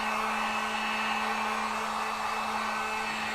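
Hair dryer drying fresh paint on a cabinet during a makeover: a steady, close, continuous whirring blow with a constant hum, no pauses and no talk.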